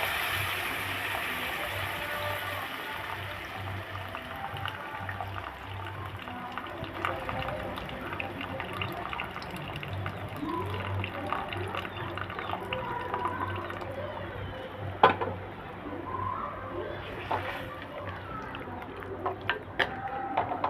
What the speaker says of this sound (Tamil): இப்போது பருப்பு வேக வச்சுருக்கேன்ல, அந்த தண்ணியை இதில் ஆட் பண்ணிக்கிறேன்